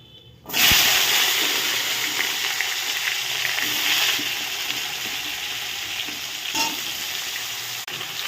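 Mixed vegetables (potato, flat beans, radish, cauliflower, eggplant) frying in hot oil with salt and turmeric, a loud steady sizzle that jumps in after half a second and holds, with occasional scrapes of stirring.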